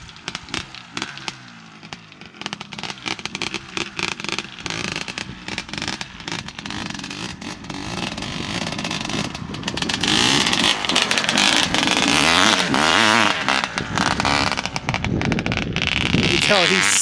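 A 1985 Honda CR500 two-stroke dirt bike engine sputters and crackles loudly up close, then builds into a sustained, harsher roar of revving that holds through the end.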